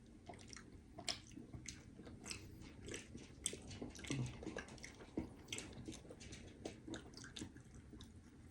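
Close, soft biting and moist chewing of macarons with a crème brûlée flavour, steady squishy mouth sounds with small crunchy clicks and no talking.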